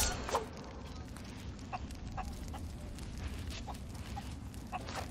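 Chickens cluck faintly in a pirate-themed sea adventure video game, several short scattered clucks over a steady background rumble.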